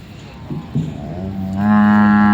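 Charolais cattle at a busy cattle market in Sikhoraphum, Surin, where one animal gives a loud, close, drawn-out moo that swells and holds after some quieter grunts and background noise.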